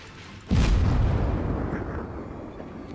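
A heavy boom from the Soviet cruiser Murmansk firing a salvo in World of Warships, a sudden loud blast that rolls into a long rumbling decay, alone without voices.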